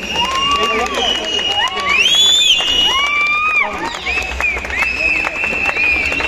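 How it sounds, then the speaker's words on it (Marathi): A crowd at a celebration rally cheers and claps, with whistles and shouting voices rising and falling over a steady bed of applause, loud and close throughout. "जोरदार टाळ्या."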